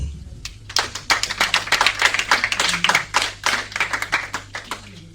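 A church congregation claps in quick rhythmic bursts, a steady stream of hands beating together close and lively during a French-language service.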